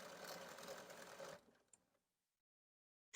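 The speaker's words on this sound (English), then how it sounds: "it's going to do a tie-off stitch and then stop" A Bernina 770 QE Plus sewing machine runs steadily as it finishes a buttonhole with a tie-off stitch, then stops abruptly. A short click follows, then near silence, and a sharp sound comes at the very end.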